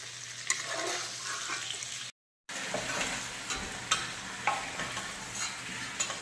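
Potatoes fry in hot oil in a pan with a steady, close sizzle and occasional sharp crackles and pops. A brief moment of silence interrupts it early on.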